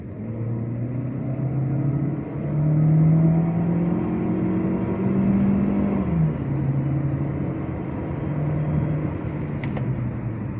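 A Chery Tiggo 7 SUV accelerates with a steady, moderately loud engine rumble heard from inside, the pitch climbing and dropping across gear changes, with no talking.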